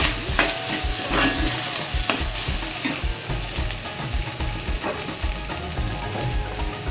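Leftover fried rice is stirred with soy sauce in a hot pan, a steady close sizzle with repeated scraping strokes of the utensil, loud and continuous with no voices.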